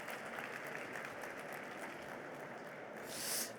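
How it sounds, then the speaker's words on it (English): An audience at a session on employee engagement and sustainability gives warm, sustained applause, a steady, faint wash of many hands clapping that swells slightly toward the end. "Warm applause for Jolana."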